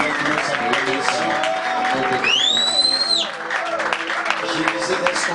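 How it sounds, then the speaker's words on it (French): A church congregation applauds and cheers to acclaim God at a 2022 welcome service, steady clapping with scattered shouts and voices across the whole stretch, a rising whoop standing out briefly. "Est-ce qu'on peut acclamer Dieu avec nos acclamations?"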